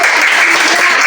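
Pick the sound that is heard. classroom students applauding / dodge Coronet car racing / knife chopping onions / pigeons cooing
classroom students applauding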